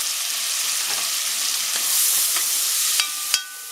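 Jalapenos, onions, peppers, garlic and salt fry in bacon fat in a pan over medium heat, a steady close sizzle with a few sharper crackles and spatter pops near the end.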